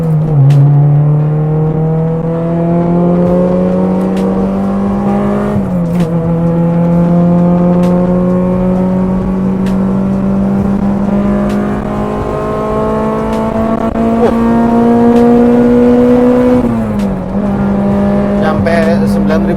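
Old Japanese-market car revving hard through the gears on a toll road toward 9000 rpm: a loud, close in-cabin engine note climbing steadily in pitch, with two quick shifts dropping the tone before it climbs again.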